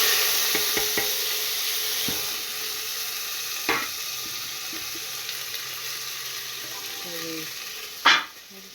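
Cumin seeds sizzling in hot oil, a steady hiss throughout with scattered small clicks and a sharper clatter near the end, close and moderately loud, with brief faint voice in the background.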